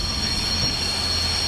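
A Class 142 Pacer diesel railbus braking to a halt in a train simulation game, giving a steady loud rumble with squealing wheels and a high whine held throughout, with no talk.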